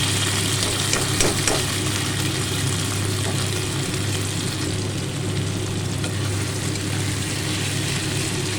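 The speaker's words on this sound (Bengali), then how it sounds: "তেল গরম হয়ে গেছে, এই সময় আমি পেঁয়াজ, টমেটো, কাঁচা লঙ্কা যেটা করেছিলাম সেটা দিয়ে দিলাম।" Onion, tomato and slit green chili fry in hot oil with a steady, dense sizzle that holds evenly throughout, close and loud with no talk.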